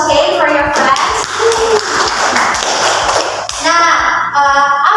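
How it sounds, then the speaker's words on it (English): Scattered hand claps ring out from a small group of schoolchildren in a classroom while they chatter and call out over them. "Give applause again for your friends."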